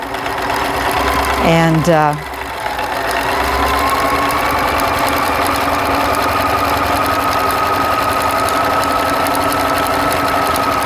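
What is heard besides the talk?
sewing machine stitching around a belt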